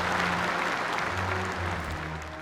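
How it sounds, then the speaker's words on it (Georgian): Applause breaks out, a dense wash of many hands clapping continuously at moderate loudness, with faint low tones running underneath. "ტაში ამხანაგებო, ტაში არ მესმის!"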